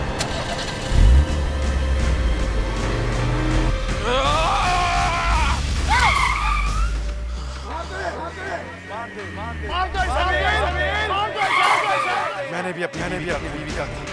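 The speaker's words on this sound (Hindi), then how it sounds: "गाड़ी स्टार्ट हो जाए।" A car engine cranks and catches after failed attempts, a low steady rumble settling in, heard under frantic shouting and screaming voices in a horror show scene.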